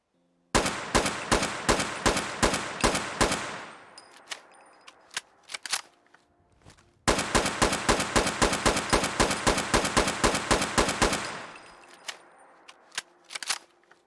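Rapid bursts from a modded weapon in Fallout 4, two long strings of sharp, evenly spaced automatic shots each trailing off into clinks and scattered rattles, loud and clear with no talk.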